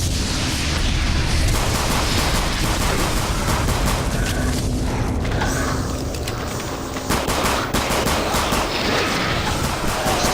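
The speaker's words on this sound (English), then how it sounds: "How much fun that pistol is." Pistol gunfire in Doom 3 VR, a loud relentless stream of sharp shots layered over booming combat noise, dipping only briefly before resuming.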